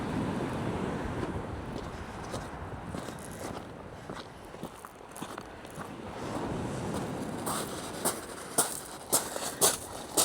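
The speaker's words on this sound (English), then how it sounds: "The way the wind's blowing." Steady broadband rush of wind blowing across a beach, buffeting the microphone continuously, with faint crunching footsteps and small knocks near the end.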